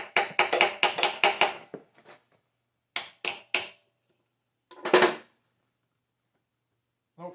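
Light hammer taps on a metal steering shaft extension being coaxed into a tight fit with a burr on one corner: a quick run of about six close, sharp knocks, then a pause and three more, a louder single knock, and a faint final tap.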